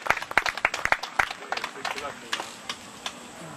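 An audience applauds after a song with scattered, uneven claps that are sharp and close at first, then thin out into a few sparse, fading claps.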